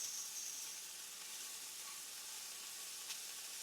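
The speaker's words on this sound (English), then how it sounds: "Now we got some sausage over here going behind us." Pre-made sausage patties sizzle in a skillet on a stovetop, a steady, soft, even hiss that runs unbroken throughout, with a faint tick near the end.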